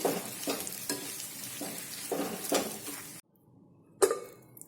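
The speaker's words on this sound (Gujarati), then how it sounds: "આ મસાલાને આ મરચાં સાથે મિક્સ કરી લઈશું" Green chillies stuffed with masala fry in a pan while a spoon stirs them, making moderate sizzling with repeated scraping strokes. A brief silent gap follows, then one sharp clatter of cookware.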